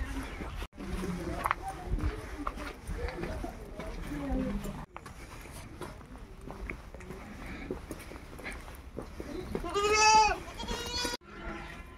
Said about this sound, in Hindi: जानवर है गाय भैंस बकरियाँ मुर्गियाँ